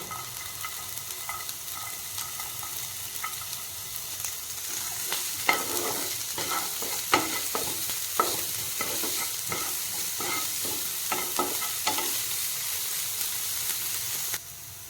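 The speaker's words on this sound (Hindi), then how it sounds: "पियाज एबे टिके फ्राए हो आसलानी" Chopped onions fry in a pan for an egg tadka, a steady close sizzle with frequent clacking stirs of a spoon against the pan, no voices.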